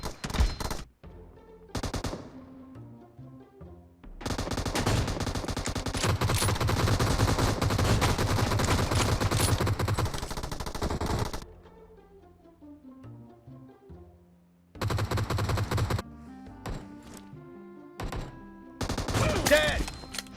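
Automatic weapon fire from the mobile game PUBG Mobile rattles in long sustained bursts with short gaps between them, loud and dense, alongside brief single shots.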